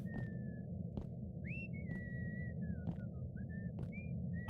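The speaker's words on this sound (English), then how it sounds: "I thought it was safe till I heard him whistling." Steamboat Willie whistles a thin, wavering tune in a horror video game, with short notes over a low droning ambience and soft periodic thuds.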